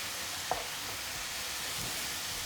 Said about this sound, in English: add the sauce.